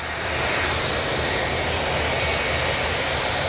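A Ryanair jet airliner taxiing at Manchester Airport gives a steady, loud broadband engine roar that holds evenly throughout, with no voices.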